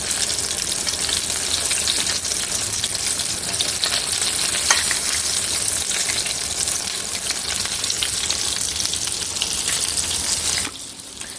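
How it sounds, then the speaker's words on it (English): Food deep frying in hot oil until crispy, a dense, steady, loud hiss and crackle of bubbling oil running close throughout, easing off sharply near the end, with no talk. "we're just going to fry them for a couple minutes on each side until they're nice and crispy"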